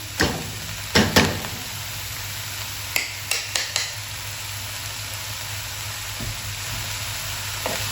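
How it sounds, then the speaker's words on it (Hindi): Spinach fries in hot oil over high heat with a steady sizzle, broken by a few sharp clanks and stirring knocks of a utensil against the pan, with no voices. "तेज आंच पे हमने 2-3 मिनट इसको ज़रा फ्राई करना है, पालक को, इसका कच्चापन ख़त्म करेंगे।"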